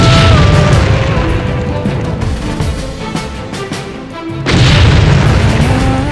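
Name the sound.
musket being fired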